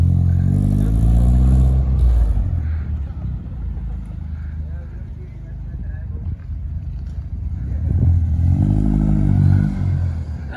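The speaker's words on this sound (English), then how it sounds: "Ah, you can really hear that turbo sound." A hybrid-turbo Opel OPC car accelerates hard twice with a rising engine drone and turbo sound, easing off in between, while people talk inside the car.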